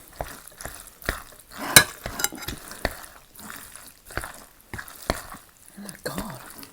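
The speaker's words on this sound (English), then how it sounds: "let's stir it a bit more" Spicy tomato Spam ramen noodles being stirred in a pan, with soft wet scrapes and gentle sizzling in irregular bursts, quiet and close, and a voice murmuring briefly near the end.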